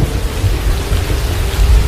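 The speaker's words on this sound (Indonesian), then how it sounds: "datanglah angin kencang dan petir, menyambar kapal Dedap" Loud thunderstorm effect with strong wind and rumbling thunder, a continuous heavy roar with rain-like hiss, dense and close throughout.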